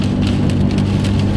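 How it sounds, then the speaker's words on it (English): Rain pours steadily during a tornado warning thunderstorm, heard from inside a car on a drive, a dense continuous hiss with a low rumble beneath, loud and close. "We already got rain."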